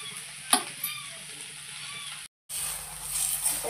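Okra (bhindi) roasting in a pan with kokum added so it won't turn sticky: a steady close sizzle and hiss with a few soft stirring knocks, and no voices.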